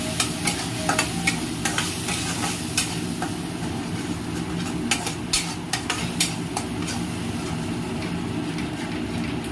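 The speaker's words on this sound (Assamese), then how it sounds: "প্ৰায় 5 মিনিটমান সময় এনেকৈ অকণমান ভাজি লওঁ।" Ground mustard paste with turmeric sizzles steadily in a hot pan while being cooked for a drumstick and mustard fish dish, with scraping stir strokes recurring over a loud, continuous frying hiss.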